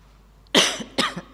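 A person coughs twice in quick succession, close and fairly loud against a quiet room, the second cough shorter and followed by a small trailing rasp.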